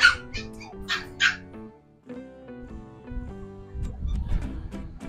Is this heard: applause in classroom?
no